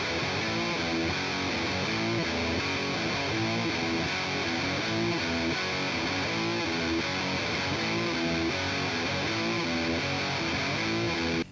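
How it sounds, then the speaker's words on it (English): A Fender Jaguar guitar runs through a Boss DS-1 distortion pedal into a Fender Tone Master Twin Reverb amp, playing thick, heavily distorted chords in a steady rhythm for the whole stretch, loud and alone, then cutting off abruptly. "My Jaguar and DS1 are both going through my Fender Tone Master Twin Reverb"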